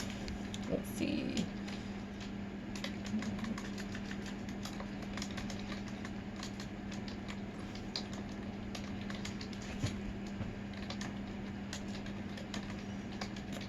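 Computer keyboard typing notes, quick irregular clicks over a steady background hum, close and moderately quiet, continuing throughout without speech.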